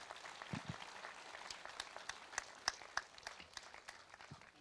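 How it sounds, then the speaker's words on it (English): Faint audience applause, a spread of many hands clapping at a steady patter, distant and soft, with no voices. "Please give yourselves another round of applause"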